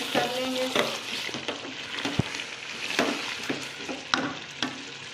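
Chicken karahi stirred in a pan after black pepper goes in: a soft continuous sizzle of frying with irregular scraping and clinking of a spoon against the metal pot, quiet and close.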